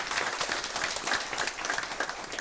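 A church congregation applauds during a Palm Sunday worship service, a dense, even burst of many hands clapping together at moderate loudness throughout.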